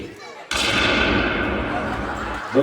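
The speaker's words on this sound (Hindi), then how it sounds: "यहाँ तो घर से गोलियां चल रही है" A sudden loud gunshot blast erupts and rings out in a long, noisy roar that slowly fades, heard close and without talking.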